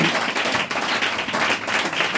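A congregation applauds during a French-language church service: a dense, sustained wash of clapping that stays steady and fairly loud throughout, with no talking over it.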